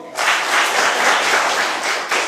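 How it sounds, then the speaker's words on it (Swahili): Classroom applause fills the room: a burst of many hands clapping at once, steady and dense for about two seconds, then a brief dip and a final flurry. "Pigeni makofi."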